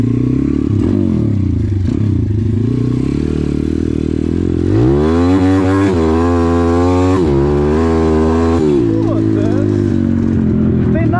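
A tuned motorcycle engine revs hard and loud up close, its pitch sweeping up and down in repeated surges with rattling mechanical clatter, while excited voices shout over it.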